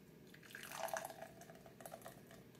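Black cherry sour beer is poured from a can into a glass, a soft, close, fizzy trickle with gurgles that stays faint throughout.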